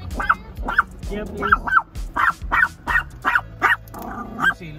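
A small Maltese dog at a Starbucks drive-thru gives about a dozen sharp, high yapping barks in an uneven rhythm, close and loud, with a person speaking briefly among them.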